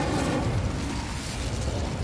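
A fire spell cast in the video game Wizard Simulator gives a dense, roaring burst that holds steady for about two seconds, loud and close, with no speech over it.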